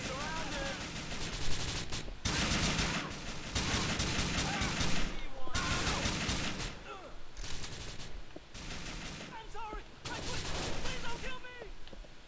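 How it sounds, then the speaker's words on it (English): Dense gunfire from GTA IV: rapid automatic bursts and overlapping shots crackling almost continuously at a loud, steady level, broken by brief lulls, with voices talking underneath. "So there is someone still shooting at me."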